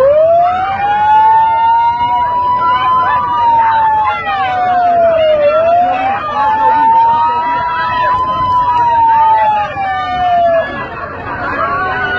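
An ambulance siren wails in long rising and falling sweeps, loud and close, over the rumble of a crowd and traffic.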